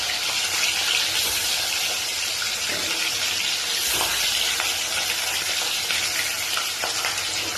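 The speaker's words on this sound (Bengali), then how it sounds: "এবার মাছগুলো ভালো করে কড়া করে ভেজে নেব।" Fish frying in smoking-hot oil in a wok with turmeric, a loud, steady, crackling sizzle with bubbling and spattering that holds throughout, close up, with no talk.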